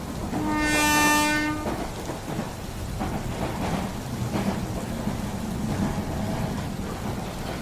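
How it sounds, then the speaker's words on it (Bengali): A train pulls out of a station on a rainy night, a steady wash of rain and rolling rumble with a sustained horn-like tone near the start. "এই স্টেশনে ট্রেন বেশিক্ষণ থামে না কিছুক্ষণের মধ্যেই ট্রেন ছেড়ে দিল"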